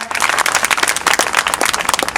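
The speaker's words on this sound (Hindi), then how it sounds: "इनके सम्मान में मैं चाहूंगा, मंचासीनों से चाहूंगा जोरदार तालियां हो जाएं।" Dense, steady applause from a crowd, many hands clapping loudly and close for a couple of seconds.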